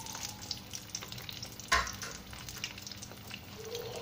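Veg kebabs sizzle in hot oil in a pan, a steady frying hiss with one louder clatter as a piece is turned over.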